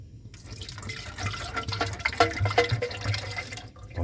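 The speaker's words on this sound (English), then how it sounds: "first we have to put the water inside" Water pours from a tap into the tank of a Nespresso Pixie coffee machine, a short, close splashing fill that swells and bubbles for a few seconds before cutting off.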